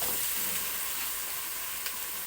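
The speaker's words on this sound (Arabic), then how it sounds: "اخليهم يتحمروا في الزيت" Potatoes frying in hot oil give a steady, even sizzle that holds at a moderate level throughout, with one small crackle near the end and no voices.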